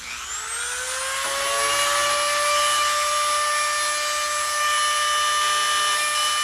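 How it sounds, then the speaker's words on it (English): A Dremel rotary tool with a carbide burr spins up to a steady high-pitched whine while sharpening a bandsaw blade, running loud and continuous up close with no talking. "I just turn on the Dremel"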